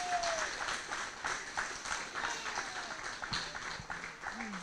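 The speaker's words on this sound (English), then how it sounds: "if everyone could give the House of Yahweh a round of applause for allowing us to use the facility" An audience at a fall educational conference applauding in a hall, a soft, steady patter of clapping heard at a distance and fairly faint, with a voice speaking briefly at the start.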